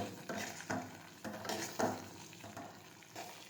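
A spoon stirs chilli curry, marchanu shak, in a hot pan on a gas stove, giving a steady close sizzle broken by repeated scraping strokes roughly every half second.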